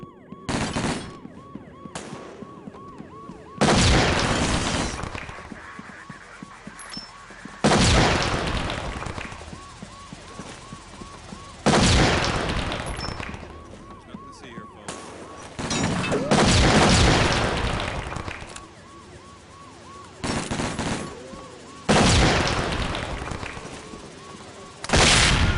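Gunfire in SWAT 4 comes in repeated loud, broadband bursts every few seconds, separated by quieter stretches with a steady high tone and some talk underneath.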